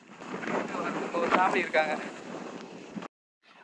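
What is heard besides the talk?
strong wind at a hilltop viewpoint in Kerala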